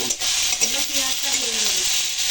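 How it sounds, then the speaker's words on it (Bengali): Onion paste fries loudly in a hot pan with a dense continuous sizzle, a spatula scraping and stirring through it, close up and without pauses. "আমি পেঁয়াজ বাটা ভেজে পেঁয়াজ বাটা দেব"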